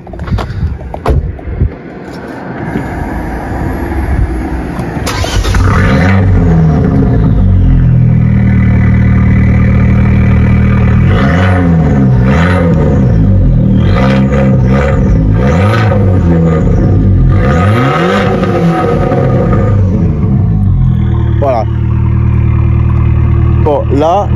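An Abarth car with a stock Monza exhaust idles with a deep, throaty exhaust burble, then revs up in several rising and falling surges before settling back to a rumbling idle.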